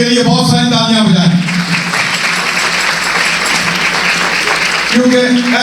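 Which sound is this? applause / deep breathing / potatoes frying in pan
applause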